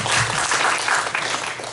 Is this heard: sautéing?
no